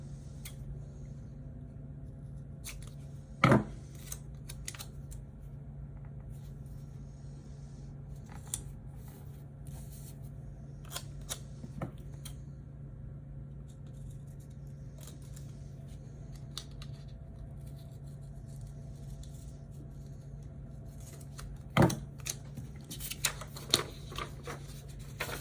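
Scissors cutting planner paper, a handful of quick snips, with two louder crisp cuts near the start and near the end and faint paper handling in between, against a quiet room hum.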